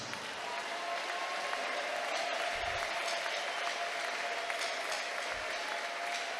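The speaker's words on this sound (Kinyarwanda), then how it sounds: "ongera ukomerwe mu mashyi" An audience at a Kinyarwanda gospel gathering applauds, a dense, steady wash of clapping that holds evenly throughout, fairly distant and without gaps.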